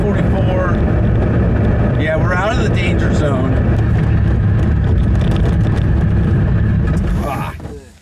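Suzuki GSX-R motorcycle engine powering a homemade vehicle idles steadily around 4,500 RPM, a loud continuous mechanical drone with wind noise, a voice talking over it, and the engine note dropping away near the end.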